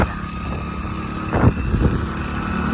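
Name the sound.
tractor and motorbike driving ahead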